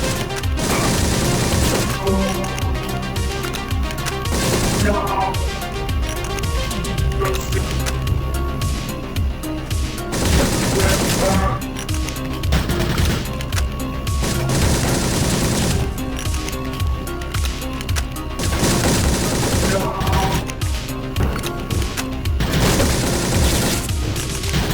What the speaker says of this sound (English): The burst fire function of the pistol is pretty cool and I like to use it a lot